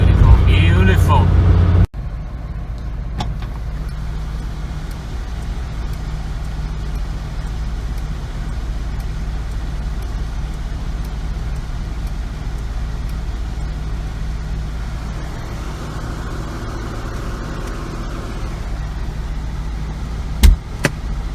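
Classic Honda Accord MK1 on the road, a steady low engine and road drone with constant rumble throughout, preceded by a brief louder burst at the start and a sharp knock near the end.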